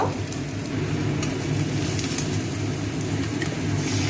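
Chopped chillies, garlic and dried red chilli powder frying in a hot pan for a pointed gourd mash, a dense, steady close sizzle with constant crackling and no speech.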